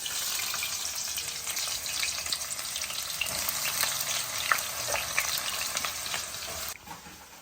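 Steady, dense sizzling of onions frying in hot oil, crackling continuously and fairly close, with a few brief stirring sounds before it cuts off near the end.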